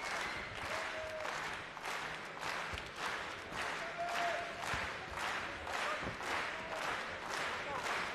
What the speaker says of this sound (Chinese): 我们听到有节奏的这种鼓励的鼓掌声